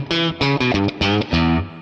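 Heavily distorted Fender Hybrid II electric guitar with series-wired distortion playing short chord stabs in a choppy rhythm, loud and saturated, with brief gaps between each burst.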